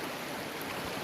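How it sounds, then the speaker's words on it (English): Water runs in a smooth, steady flow through a gold sluice box set at a steeper pitch with a low water level, giving a continuous, even broadband rush with no choppy splashing. "Nice smooth flow of water."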